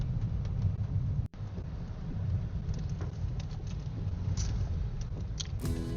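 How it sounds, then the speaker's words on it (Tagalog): Heavy rain drumming on a Toyota Wigo during a night drive through a typhoon in Bulacan, a dense continuous wash with a low rumbling roar underneath and one brief dropout. "Hindi tayo tinantanan ng ulan mula kanina sa Cabanatuan hanggang dito sa Norsagaray"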